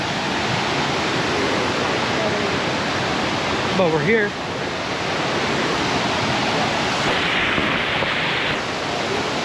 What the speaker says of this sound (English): Salt Brook Falls